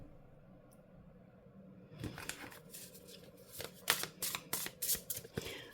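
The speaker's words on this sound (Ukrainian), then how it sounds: "карти дуже легко тасуються і, ну, так, непогано ковзають одна проти одної" Playing cards being shuffled close by: a quiet start, then a series of crisp riffling bursts and sharp flicks, no talking.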